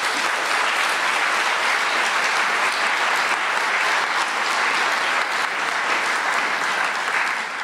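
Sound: studio audience applause

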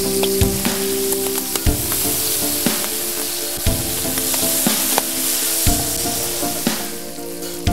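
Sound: squid and red pepper frying in a pan for paella

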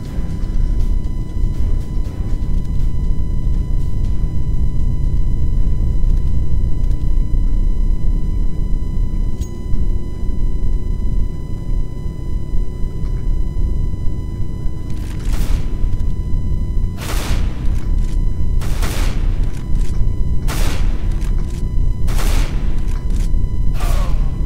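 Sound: gunfire in the video game CS:GO

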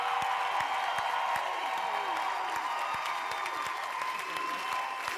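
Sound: audience applause

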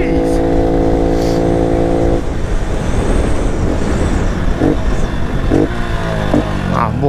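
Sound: Honda Pop 110 motorcycle engine revving

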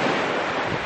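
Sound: small waves crashing on a beach

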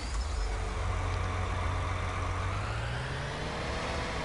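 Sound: tractor engine in the video game Farming Simulator 19

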